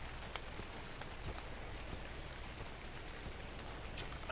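Faint, steady rain patters across the ground in ARK: Survival Evolved, a soft continuous wash with scattered drop ticks and no talking.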